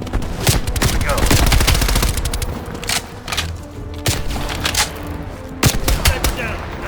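Rapid bursts of automatic gunfire from a Call of Duty: Black Ops Cold War match, dense and loud at first, then broken into separate close shots and short volleys with a voice speaking between them.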